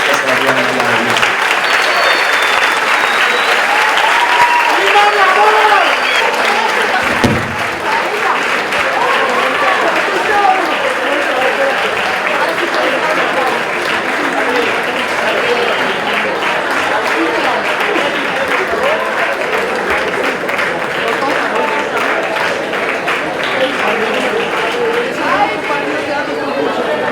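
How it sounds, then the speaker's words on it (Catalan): A crowd at a fourth-year secondary school graduation gives a long, loud round of applause, dense continuous clapping with cheering and chatter mixed in, steady throughout. "acabem amb un fort aplaudiment per als vostres cosins, germans, fills o amics que es graduen el dia d'avui"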